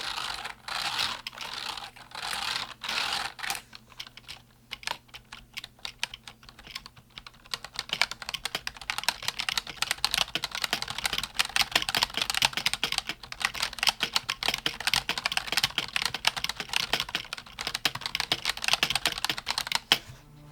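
Rapid, continuous typing up close on a Cooler Master MasterKeys Lite L keyboard with hybrid mechanical switches, dense clattering keystrokes, a brief pause and then a steady stream of fairly loud clicks.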